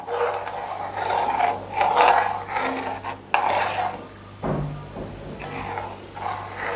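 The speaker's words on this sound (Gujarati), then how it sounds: "હવે આને આપણે સારી રીતે મિક્સ કરી દેશું।" A spoon stirs mint kadhi in a pot on the stove, scraping and sloshing in uneven bursts with a few knocks against the metal, close and fairly loud.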